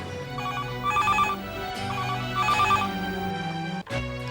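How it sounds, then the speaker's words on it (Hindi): A telephone rings with a trilling electronic bell in two clear bursts, loud and close over a steady music bed, in a dramatic Hindi thriller scene; a brief break near the end. "नम्रता बहन, आपके लिए टेलीफोन"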